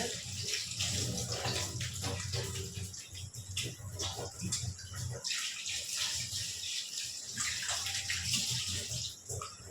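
Water pours steadily from a tap as hands are washed after kneading maida dough for luchi, a continuous close rushing splash lasting throughout with small shifts in flow.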